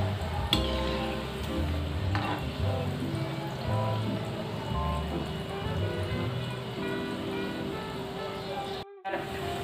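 Gulab jamun made from khoa fry in hot oil, giving a steady crackling sizzle with occasional stirring clinks, quiet and close beneath someone speaking.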